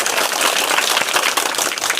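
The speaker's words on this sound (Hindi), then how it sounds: "नैना के लिए जोरदार तालियां बजाएं।" A classroom of children claps for a young girl, dense continuous applause loud and close throughout, with no pauses.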